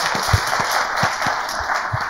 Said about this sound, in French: on va inviter Douden sous vos applaudissements